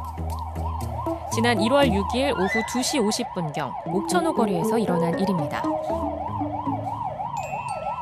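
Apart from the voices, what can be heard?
ambulance siren in a traffic jam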